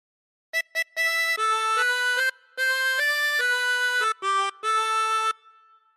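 Harmonica playing a melodic phrase, with held, reedy notes stepping between pitches in a slow melodic line, including a bent note, played alone and close.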